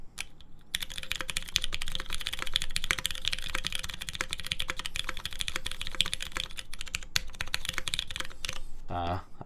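Rapid, continuous clacking of a mechanical keyboard fitted with GMK Kaiju keycaps, close and busy, with a brief voice at the very end.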